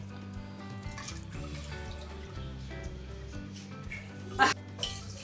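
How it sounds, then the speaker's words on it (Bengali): Water trickles and splashes as it is poured over 750 g of washed mutton with plenty of garlic in a pressure cooker for rogan josh, a soft continuous pour with a brief louder splash near the end. "আর একটু জল দিয়ে দিলাম"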